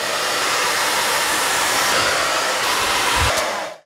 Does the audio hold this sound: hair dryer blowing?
yes